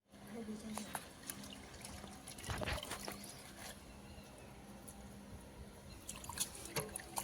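Water trickles and drips from freshly washed mustard greens (saag) left to drain, a soft, close, continuous patter with a brief heavier splash partway through, under faint background noise.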